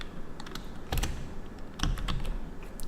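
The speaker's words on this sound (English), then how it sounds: "You could also type in your answers from your keyboard." Typing on a computer keyboard, with two quick clusters of key clicks over a steady background hiss, close and moderately loud, no voices.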